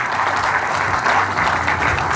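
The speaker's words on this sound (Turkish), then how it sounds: "sizlerden de tebrik ve teskit için bir kuvvetli alkış istiyoruz" An audience applauds a speech by Gaziantep's provincial mufti, steady dense clapping that fills the whole stretch at an even level with no voices over it.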